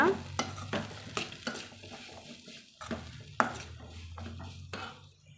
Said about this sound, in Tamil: நம்ம சேர்த்திட்டு நல்லா கலந்து விட்டுறலாங்க